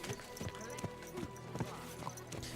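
Horse hooves clip-clop at a steady riding gait in the medieval game Kingdom Come: Deliverance 2, with evenly spaced moderate knocks under quiet background sound and faint voices.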